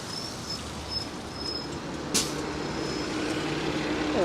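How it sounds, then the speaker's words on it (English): A Toronto number 7 city bus hisses with a short, sharp burst from its air brakes on a street outdoors, followed by a low engine rumble that builds as it pulls near. "There's the number 7 bus."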